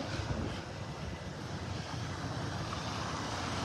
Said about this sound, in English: We've been seeing that same helicopter for a long time now.